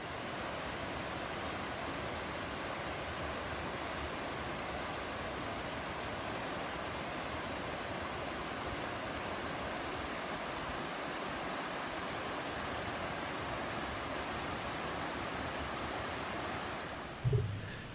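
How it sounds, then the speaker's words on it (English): Water rushing below the Francis Walter Dam spillway where it empties into the Lehigh River, a constant broad roar that stays loud and unbroken, ending with a brief bump near the microphone. "I am actually down under the spillway of the Francis Walter Dam, which empties out into the Lehigh River"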